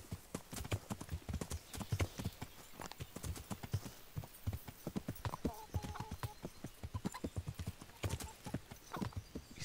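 Horse hooves while riding in Kingdom Come: Deliverance, a quick, steady clip-clop of hoofbeats at close range that carries on throughout, with a brief snort or whinny partway.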